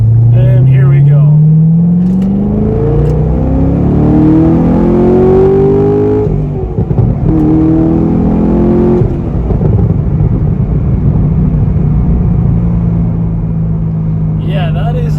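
A C6 Corvette Z06's LS7 V8 engine revs hard under acceleration, pitch climbing through gears with a brief shift break, a loud close rumble, and a voice speaking over it.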